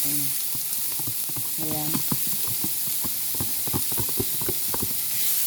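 Onion and garlic sizzling in hot oil in a pan, a steady bright hiss with crackling pops scattered throughout, close and continuous, while a person speaks briefly over it.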